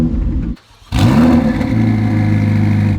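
A Ferrari 488 Challenge Evo race car engine cranks briefly, then catches and fires up with a loud rev that settles into a steady, rumbling idle close by.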